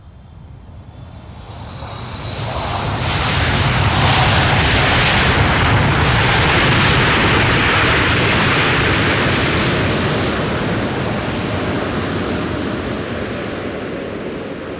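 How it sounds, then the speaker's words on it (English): A China Airlines Cargo Boeing 777F from Mumbai passes at Amsterdam Schiphol, its jet engines rising into a loud, sustained roar that peaks and holds before slowly fading, with no voices heard. "China Airlines Cargo from Mumbai, Boeing 777F."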